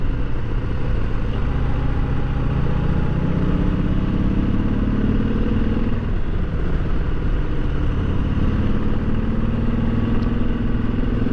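A motorcycle climbs a steep, freshly repaved mountain road with switchbacks, NC80 near the Blue Ridge Parkway and Mount Mitchell State Park; its engine drones loudly and steadily, pitch rising and falling through gear changes, with wind rush throughout.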